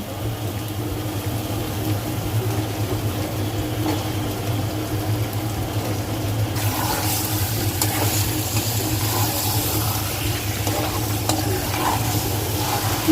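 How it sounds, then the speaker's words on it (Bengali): Chicken pieces hitting hot oil and fried spice paste for a shahi chicken korma, sizzling steadily and loudly up close, with a brighter burst of frying partway through as they are stirred. "মশলাটা ভুনার পরে যেভাবে তেল উঠে গেছে, এখন মাংসগুলো দিয়ে দিব।"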